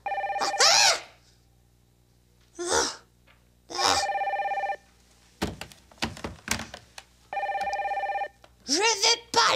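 A telephone rings in bursts of bright electronic trills separated by pauses, close and loud, with thumps and short vocal sounds between rings in an animated French children's show.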